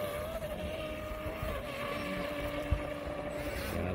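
A steady high-pitched motor whine of an RC model speedboat, a Blackjack 42, running continuously across water, fairly distant and even in level, with no talking.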